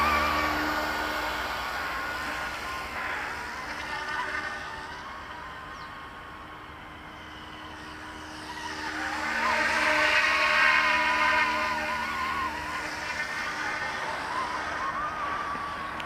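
Eachine E200 SH-60 SeaHawk RC helicopter spooling up, a steady whining motor hum that dips midway then swells louder again, heard from nearby outdoors.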